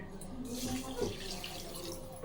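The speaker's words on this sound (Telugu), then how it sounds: "దాంతో వాటర్ పోస్తున్నాను." Water is poured from a glass onto rice in a pot while egg biryani is being prepared, producing a continuous close splashing pour that runs without a break.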